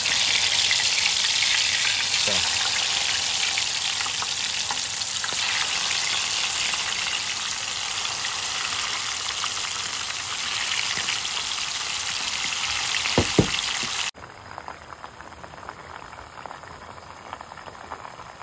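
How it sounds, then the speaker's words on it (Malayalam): Chicken pieces fry in hot sunflower oil in a kadai, giving a dense, steady sizzle with scattered pops and a few louder spatters before the frying noise drops suddenly near the end. "ഓയിൽ ചൂടായി വരുന്ന സമയത്ത് നമുക്ക് ഓരോ പീസ് ഓരോ പീസ് ഇതിലേക്ക് ഇട്ടെടുക്കട്ടോ"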